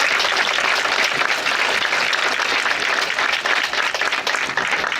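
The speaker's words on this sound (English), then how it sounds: "give everybody here a round of applause for coming out" Elementary school students applauding loudly and steadily, dense clapping that fills the whole stretch without pause.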